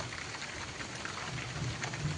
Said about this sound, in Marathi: पाऊस काय माझं ऐकूचं मनात घेत नाही हा. तो अजून जास्त वाढता हा.